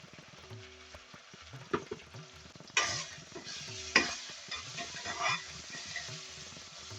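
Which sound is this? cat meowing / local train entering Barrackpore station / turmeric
turmeric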